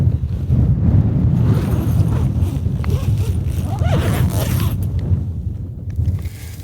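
A tent zipper is pulled closed from inside a winter tent during a snowstorm, a scratchy rasp close to the microphone over constant roaring wind noise.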